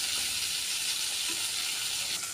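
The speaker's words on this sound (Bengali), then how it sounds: "মশলাগুলোকে এভাবে 5 মিনিট কষিয়ে নেব।" Spices sautéing in oil with a splash of water for a Bengali soybean and potato curry, giving a steady close sizzle and frying hiss that carries through without pause, with no voices over it.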